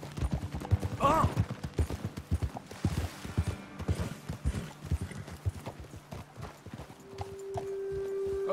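Rapid hoofbeats of galloping horses in Red Dead Redemption 2 clatter in a steady rhythm, with scattered sharp bangs and a low steady hum toward the end.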